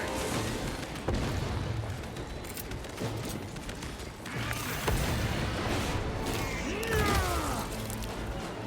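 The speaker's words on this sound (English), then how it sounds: "Throwing frag grenade!" A frag grenade in Warhammer 40,000: Space Marine 2 goes off amid a dense battle soundscape of booms, gunfire and crashes, with heavy low rumbles throughout and a voice briefly calling out.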